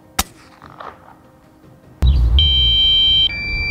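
A sharp gunshot from a .22 LR rifle, then quiet, then a loud electronic beeping tone cutting in and holding steady as a drone low-battery warning, stepping down in pitch near the end.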